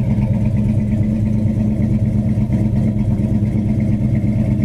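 A green 1969 Chevelle Super Sport engine runs loud and close at a steady, rumbling idle with a slightly uneven throb and faint mechanical clatter, and no one talks.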